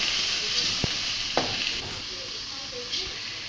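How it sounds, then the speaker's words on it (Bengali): Fish fries in hot oil in a pot with chopped onion and turmeric, making a close, steady sizzle broken by a few quick stirring clicks and scrapes, with no one talking. "মাছগুলো হালকা করে বেজে নিবে হালকা হালকা"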